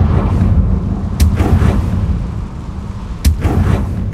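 A Confringo fire spell blasts in Hogwarts Legacy, heard as two sharp bursts about two seconds apart over a dense, rumbling low backdrop, loud and close with no talk.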